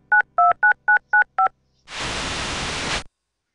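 Six short telephone keypad dialing tones in the Pandora Directive video game, evenly spaced beeps in quick succession, followed after a brief pause by a second-long burst of loud static hiss.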